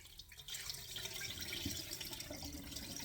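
Cooked tortellini drain in a kitchen, giving a faint, steady trickle and patter of running water that continues with no voices.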